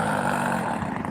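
Small model airplane engine running out of fuel at a flying field, a steady buzzing drone that wavers slightly as it begins to falter, heard from a short distance.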